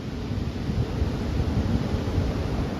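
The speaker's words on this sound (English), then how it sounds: "Windy conditions." Steady, blustery wind roars and buffets the microphone, a continuous low rushing noise with no voices or other distinct sounds.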